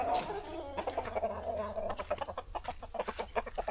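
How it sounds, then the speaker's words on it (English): Several chickens cluck and cackle nearby among cat food, in a busy, uneven chatter that grows more rapid and choppy toward the end. "I know I see chickens in the cat food"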